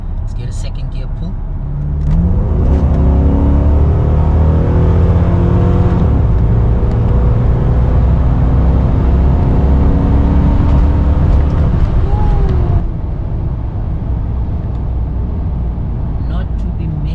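A Chevrolet Lumina SS engine burbles and pulls hard in second gear, a loud, steady rising drone up close from inside the car, easing off near the end.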